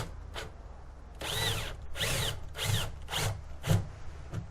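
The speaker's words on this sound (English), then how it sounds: "And then we will drill through." Power drill boring through a wooden beam while fitting gussets on a Tryst 10 trimaran sailboat, in five or six short bursts of whining, rising-pitched drilling separated by brief pauses, close and fairly loud.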